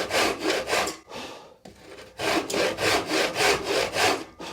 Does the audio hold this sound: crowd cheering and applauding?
no